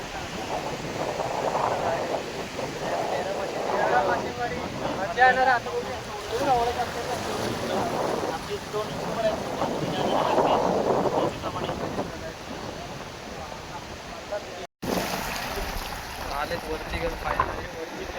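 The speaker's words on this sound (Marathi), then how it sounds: "भयंकर पाणी आहे ना एवढा लाट मारते" Rough sea surf breaks on the Konkan shore during rapan net fishing, a broad continuous wash of waves mixed with gusty wind buffeting the microphone, while people talk throughout.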